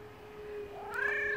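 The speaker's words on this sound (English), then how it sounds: "Cats. Cats. Going for it, cats. Meow." A cat lets out a single drawn-out meow that rises and bends in pitch, close and clear over a steady background hum, with no talk.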